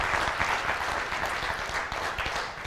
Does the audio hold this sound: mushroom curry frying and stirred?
no